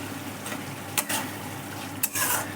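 Spice masala for pasta is stirred and fried in a pan over a high flame, a steady sizzle with a couple of sharp spatula scrapes and rubbing strokes against the pan, close and without talk.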